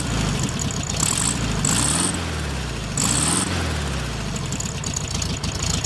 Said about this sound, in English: That chug chug chug you've been hearing the whole time is marvellous.